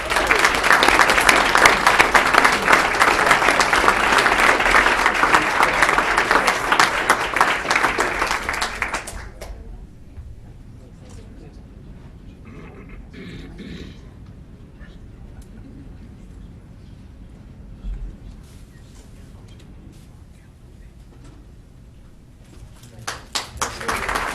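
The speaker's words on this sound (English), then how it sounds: "Please give them a round of applause." An audience at a school board of education meeting claps in loud, dense applause that lasts about nine seconds and then stops, leaving a quiet room with faint shuffling before a brief swell of sound at the end.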